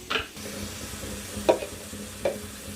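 Curry with chili powder and turmeric frying in a pan, a low sizzle under a few sharp scraping stirs spaced about a second apart, close and fairly quiet, no talking.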